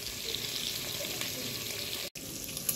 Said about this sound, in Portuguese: Enquanto tá o bacon fritando, o brócolis cozinhando